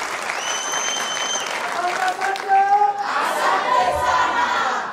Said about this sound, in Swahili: Piga makofi kwa ajili ya hilo.